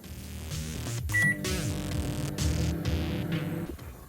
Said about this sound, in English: And into the microwave it goes.